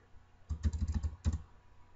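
Keys clatter on a computer keyboard as text is typed: a quick run of about eight close, crisp keystrokes, then a brief pause and two more taps in a quiet room.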